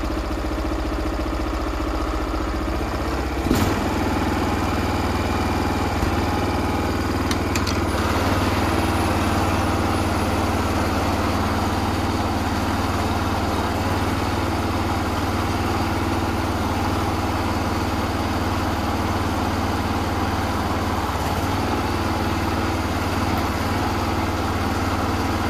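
The engine of a Kobelco SS1 compact mini excavator runs steadily at close range, a constant loud droning idle with a slight rev lasting the whole stretch.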